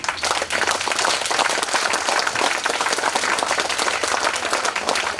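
Sustained applause from a congregation at a Pongal gospel camp session, dense steady clapping that runs loud throughout, with no talk.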